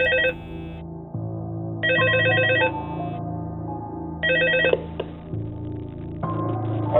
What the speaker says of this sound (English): where we hear this phone call.